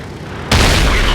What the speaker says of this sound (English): Big hit from the Conqueror gun carriage.